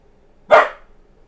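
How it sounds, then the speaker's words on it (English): A single sharp dog bark rings out close by, short and loud, with quiet surroundings before and after. "Yo, bro, stop barking."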